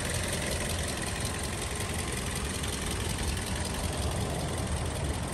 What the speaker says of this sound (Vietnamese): Máy nổ êm ru nhé.